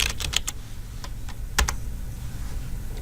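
Username being typed on a computer keyboard: a quick burst of close, crisp key clicks, then a few scattered keystrokes and one firmer tap, over steady low room hum.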